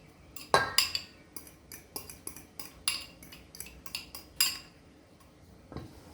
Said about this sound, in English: And then now you mix your mashed banana.